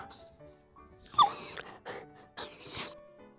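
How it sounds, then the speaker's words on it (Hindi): A hungry dog cries and whimpers in a few short, high-pitched whining bursts separated by quiet gaps, close and fairly faint. "रास्ते में एक भूखा कुत्ता रो रहा होता है।"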